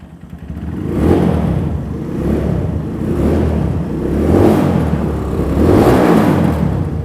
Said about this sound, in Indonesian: Mungkin kita coba agak geber-geber dikit nih